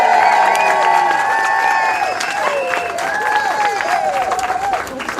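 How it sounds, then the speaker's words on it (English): Crowd at an outdoor protest rally over Southern Water in Bognor applauding and cheering loudly, dense clapping with shouts and whistles sustained throughout, easing slightly toward the end. "Give yourselves a big round of applause."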